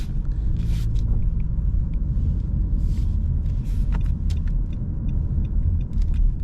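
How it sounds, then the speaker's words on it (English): A steady low rumble of road traffic passing nearby, with cars going by continuously and no break in the engine and tire noise. "sorry guys, lots of traffic."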